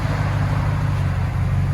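A 2021 Ram 1500 pickup with a 5.7L Hemi V8 and B2 Fabrication dual exhaust idles nearby, a steady deep low rumble with no talking over it.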